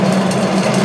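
Steady, loud mechanical hum of the draft blower on an Axeman Anderson AA130 anthracite coal boiler, a continuous low drone with no talking.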